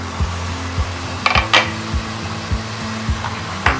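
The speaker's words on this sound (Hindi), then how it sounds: "2-3 मिनट तक हम मसाले को भूनेंगे" Spice masala fries in a covered pot with a steady sizzle, while regular stirring scrapes and knocks against the metal roughly every half second, plus a few brighter spattering pops.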